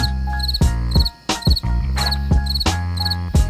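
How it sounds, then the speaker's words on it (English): Rhythmic insect-like chirps repeat steadily over loud music with a heavy beat. "I think the crickets are part of the music."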